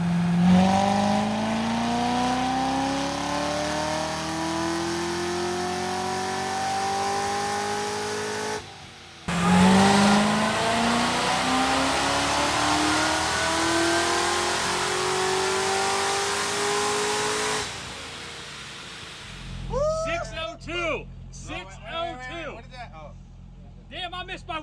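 ZR1 Corvette engine on a dyno, revving hard with long climbing pulls through the gears, a brief drop before a second sustained run, then fading as people talk excitedly over it.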